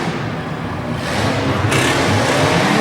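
A monster truck engine roars during a tough truck race, a loud broadband rumble that swells and climbs partway through, heard up close and steady.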